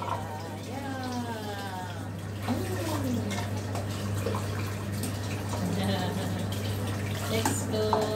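Water runs steadily from a tap into a bathtub while a dog is showered, a continuous close splashing wash with a low steady hum beneath and someone talking over it throughout.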